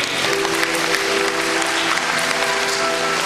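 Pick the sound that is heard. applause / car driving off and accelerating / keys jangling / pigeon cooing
applause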